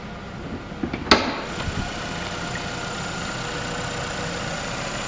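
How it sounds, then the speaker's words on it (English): A 2012 Nissan Altima's engine idles steadily at close range, a smooth even hum after a brief click and knock near the start, with no voices. "The engine running nice and smooth,"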